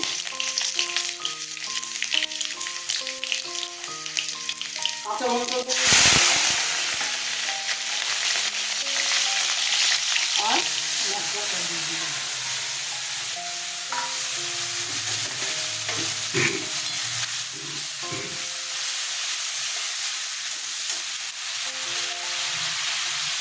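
Green chillies and five-spice seeds hitting hot oil in a pan, a loud sharp sizzle bursting up and then settling into steady crackling frying, close up, with background music playing throughout.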